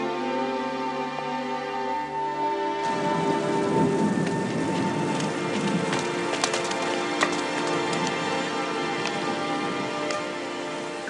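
Steady rain falls and patters on surfaces at a harbour, starting softer and then swelling into a dense, continuous downpour with scattered sharper drop impacts, heard up close with no voices.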